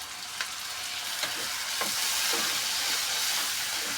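A thick spice paste sizzles and hisses steadily in a hot wok right after a splash of water is added, with faint stirring scrapes scattered through the loud, continuous frying.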